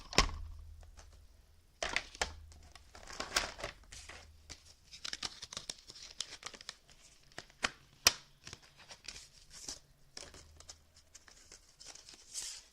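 Paper being cut out with metal stamping dies in a crafting session: irregular crisp crunches, snaps and rustles of paper and plastic handling, near and moderately loud, with scattered sharp clicks and no talk.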